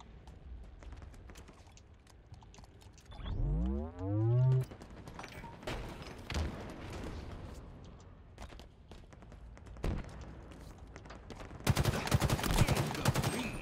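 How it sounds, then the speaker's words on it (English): Gunfire in the shooter Halo Infinite: scattered sharp shots early on, a loud sweeping tone burst near the start, then a dense rapid burst of automatic fire toward the end, all in a busy game mix. "Oh, they're shooting at me on the side."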